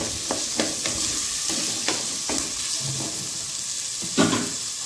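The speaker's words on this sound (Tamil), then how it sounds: "தக்காளி வந்து நல்லா வதங்கணும்னு அவசியம் இல்லை, சும்மா லைட்டாக வதங்கினா போதும்." Tomato and green chili sauté lightly in a hot pan: a dense, close sizzle with a handful of scraping stirs spread over a few seconds, and no voices.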